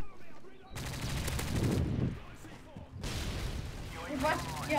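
Gunfire from the video game Call of Duty: Modern Warfare 3, with loud, dense automatic bursts and sharp shots in two long volleys. Players' voices come through faintly underneath.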